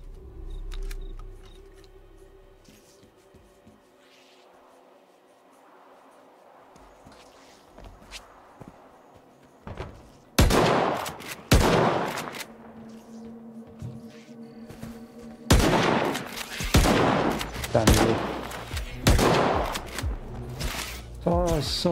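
Gunfire in the video game Stalker 2: loud, sharp shots ring out in separate bursts, first a pair and then a rapid cluster, over quieter in-game ambience.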